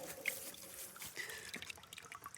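Rainwater drips and trickles from a loosely fitted connector on a rainwater collection system, a quiet steady patter of close droplets with scattered brighter splashes.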